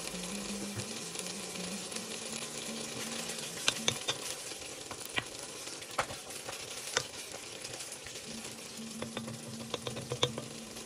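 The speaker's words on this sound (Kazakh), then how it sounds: "Құйрық май мен сарымсақты саламыз." Tail fat and garlic frying in a pot for sweet Uzbek plov, a steady close sizzle with scattered pops and crackles throughout, stirring sounds mixed in, no voices.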